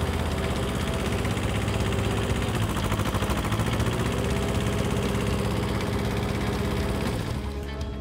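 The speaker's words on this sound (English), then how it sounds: "So now I will start the engine again and lower the switch to show you." A motor runs steadily with a constant low drone and rattle throughout, then drops off and fades out at the very end.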